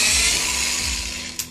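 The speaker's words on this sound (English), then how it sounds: "Take your 1/8 inch bit and go right through the whole thing." A 1/8 inch drill bit bores straight through a workpiece with a brief, loud, close whirring grind that tapers off at the end.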